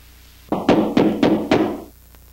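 A quick run of five loud, hollow knocks on a front door, close and evenly spaced, heard alone in a quiet room during a horror drama scene.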